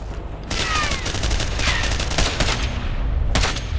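Enemy gunfire in Ghost Recon Advanced Warfighter: dense, rapid automatic bursts crackle almost without pause, loud and close, with a couple of brief lulls and a final flurry of shots.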